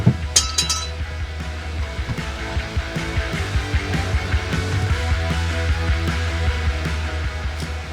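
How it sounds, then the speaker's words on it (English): A ratchet and spanner working on the shock absorber bolts of a VY SS Commodore, giving a few sharp metallic clinks up front and then a rapid steady ratcheting clatter, close and fairly loud, with no talking. "Let's undo these, ratchet on top and a spanner on the bottom, crack that"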